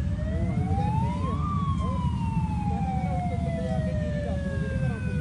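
A fire brigade engine's siren wails in long rising and falling sweeps over steady engine rumble and road noise, loud and continuous, during a response to a straw fire in village farm fields.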